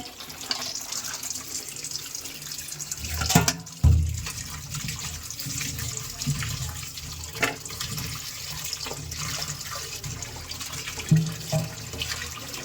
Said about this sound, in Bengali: এই যে পটলগুলো এবার ধুয়ে নিচ্ছি